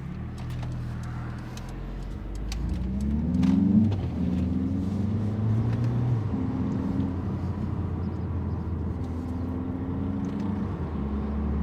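Mercedes A45S AMG compact sports car engine, 421 hp, droning steadily while driving, with rising and falling tones as it pulls through gears, heard from inside with no talk.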